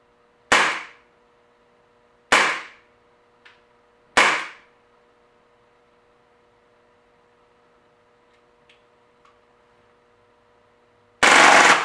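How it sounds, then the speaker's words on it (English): An Umarex Beretta M92 A1 air pistol fires in full auto mode at close range: three sharp, loud bursts about two seconds apart, a few faint clicks, then a final burst at the end, with near silence between. "Here is a close-up of the M92 A1 in full auto mode."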